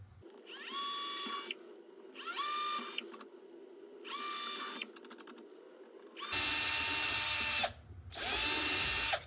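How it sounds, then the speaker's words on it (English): A power drill with a 5/16 bit bores holes in a Motorola SK33W stereo console frame, several close high-pitched whirring bursts that rise and fall in regular spurts with short pauses between. "we're going to drill here, here, and here with this 5/16 bit"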